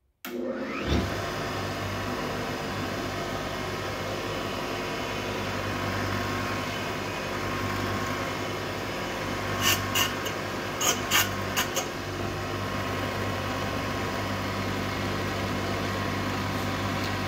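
A connecting rod honing machine working a Chevy 283 rod starts up with a sharp onset, then settles into a steady grinding whir that holds for a long stretch, with a few brief metallic ticks partway through.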